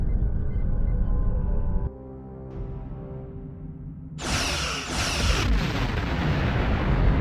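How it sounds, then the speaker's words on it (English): Starship weapons fire in the space combat game Star Trek Online, with heavy booming blasts and rumbling explosions, then a sharp bright burst of energy fire that rings on, loud and close, with no talk. "Target that ship, and fire all weapons!"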